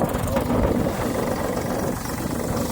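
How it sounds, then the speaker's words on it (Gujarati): An Eicher tractor engine runs on a farm beside a thresher, a low, even mechanical rumble heard close up throughout, with a voice talking over it. "ટ્રેક્ટર છે આઈસર"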